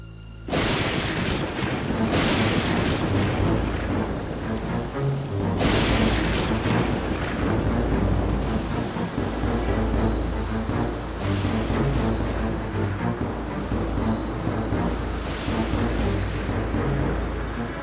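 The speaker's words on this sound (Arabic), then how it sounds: "رعد وبرق ومطر." A thunderstorm rolls on with heavy, continuous rain and repeated deep booms of thunder, loud and close, filling the whole stretch without pause.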